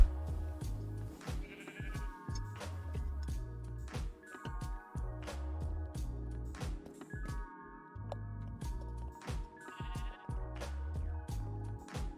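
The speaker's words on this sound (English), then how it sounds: "Hello, Mr. Sheep." Repeated sheep bleats in Minecraft over a rhythmic game background, several short wavering calls standing out clearly and fairly close.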